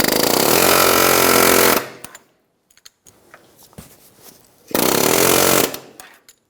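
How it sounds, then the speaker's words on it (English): A pneumatic air hammer with a chisel bit drives against the corner of a rusted rear wheel bearing in the knuckle of a 2007-2017 Ford Expedition, two loud sustained bursts of rapid hammering separated by quiet clinks of handling. "hammer with a chisel bit, we're going to slide our chisel up behind the adjuster, and we're going to get onto the corner of the wheel bearing"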